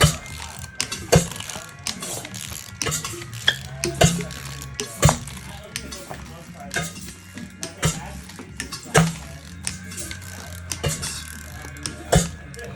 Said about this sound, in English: get angry at me for fucking using a torque wrench as a ratchet